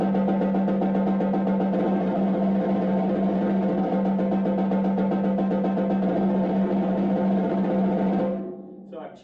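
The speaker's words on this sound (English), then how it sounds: "a good exercise to practice is just moving between regular strokes" A snare drum played close and loud, with steady, dense rolls that shift between open regular strokes and pressed buzz strokes, continuing without pause for about eight seconds and then stopping into a short ringing decay.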